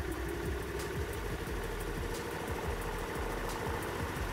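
A Honda Activa scooter idles steadily with a low, even, vibrating putter while its carburetor throttle stop screw is adjusted. No one speaks.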